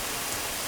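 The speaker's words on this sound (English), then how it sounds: "Wonderful rain." Cartoon rain pouring down, a dense steady hiss of falling drops, brief and continuous with no voices.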